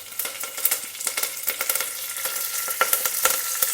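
Mustard seeds, cumin seeds, a dry red chilli and curry leaves sizzle and crackle in hot oil for a South Indian sambar rice, with steady frying hiss broken by dense, sharp popping bursts.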